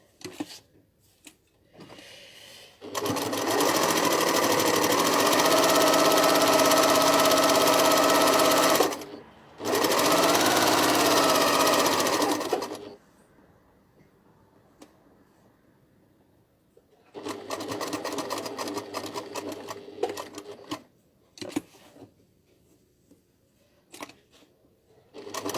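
Sewing machine stitching a shirt collar, running in two long steady bursts, then a shorter burst after a pause, with soft clicks and handling noises between runs.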